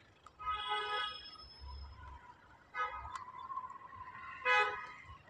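A car coming from the front on a road sounds its horn in three separate bursts, the first long and the later two shorter, loud over steady traffic rumble.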